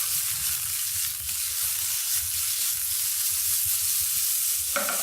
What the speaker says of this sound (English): You want to hear a nice sizzle.